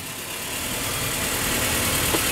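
Continuous engine hum of a car pulling away, a steady mid-pitched drone with broad noise and no distinct changes, fairly loud and close.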